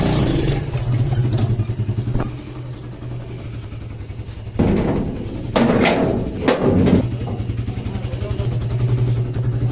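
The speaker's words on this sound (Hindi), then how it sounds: "अभी बाइक निकाल रहे हैं।" Motorcycle being wheeled out through a door, its engine idling with a steady close rumble, broken by clattering knocks and a brief voice.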